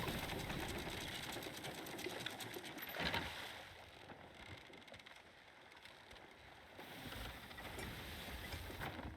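A ship's anchor drops and is quickly raised in Sea of Thieves, a continuous rattling, clattering chain churn over ocean and wind ambience, easing in the middle then swelling again.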